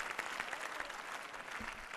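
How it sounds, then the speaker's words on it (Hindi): Faint, distant applause rises from an audience at a Vedic gurukul gathering to praise a student's answer, a soft continuous patter of many hands. "तालियां हो जाएं इस ब्रह्मचारी के लिए।"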